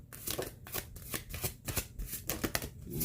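Oracle cards being shuffled by hand, a rapid run of crisp riffling and slapping bursts close to the microphone, continuing throughout with no talking.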